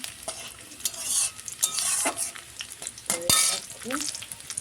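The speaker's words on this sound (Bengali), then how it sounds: "রসুন কুচি দিয়ে একটু নাড়তে হবে, ভালো করে নেড়ে চেড়ে নিতে হবে" Chopped garlic stirred in hot oil and ghee for a rural Bengali vegetable dish, with sizzling frying and sharp scrapes and clinks of a spatula against the pan in irregular bursts.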